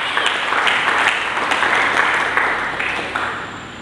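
A church congregation applauding for Jesus during a Pentecost service, a steady wash of many hands clapping at moderate distance, with faint voices beneath.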